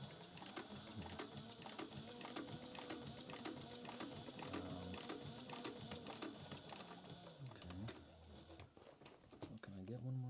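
A sewing machine stitches a leather work bag in a fast, steady mechanical rattle close up, pausing briefly near the end before a few more stitches, with a voice talking over it.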